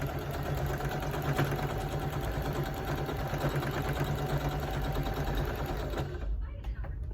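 A sewing machine hums steadily while stitching around a quilt square, running continuously at moderate volume before stopping near the end.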